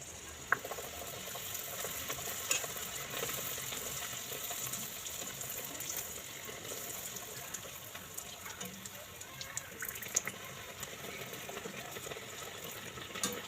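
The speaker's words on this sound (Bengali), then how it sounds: "সব বাটনান কটা ভেজে নিচ্ছি তারপর আপনাদের কাছে দেখাচ্ছি কত সুন্দর হয়েছে" Butter naan puri deep-frying in oil, a steady broadband sizzle and crackle running throughout at moderate level with a few sharp pops and clinks, no talking.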